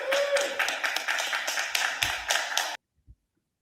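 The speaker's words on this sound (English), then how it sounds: "I love the applause" Applause from an audience at a Capitol Hill hearing on kratom bans, a dense burst of clapping lasting under three seconds and then cutting off into silence.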